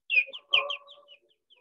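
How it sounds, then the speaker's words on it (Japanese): Recorded birdsong mixed with a Handel chorus plays quietly, with a few high chirps and short tweets over faint sustained tones that fade out after about a second. "鳥の声と混じってるでしょう。"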